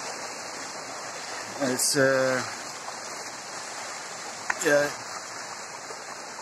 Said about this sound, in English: it's just slow water running here